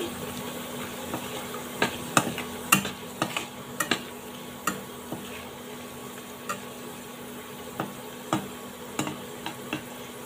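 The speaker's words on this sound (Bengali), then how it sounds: "এই যে আমি শুকনো মরিচগুলোকে দিয়ে একটু ভেজে নিচ্ছি" Dried red chilies and garlic frying in oil in a home kitchen pan for a Bengali pui shak stir-fry, a soft steady sizzle broken by irregular sharp crackles and pops, some scraping stirs, close and moderately quiet with no talk.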